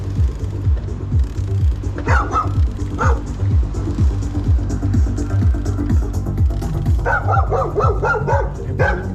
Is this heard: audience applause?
no